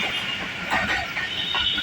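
A passenger train on the Karachi Cantt to Rawalpindi line runs along the rails with a steady, loud rumble, light clattering and faint wheel squeal, close by and with no voices.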